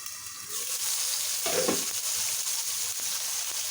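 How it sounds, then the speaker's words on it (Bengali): Cauliflower frying in a pan keeps up a steady close sizzle, with a brief burst of stirring and scraping after the lid comes off, then continuous crackling with a few soft knocks. "এখন ঢাকনাটাকে তুলে একটু নেড়ে নেব।"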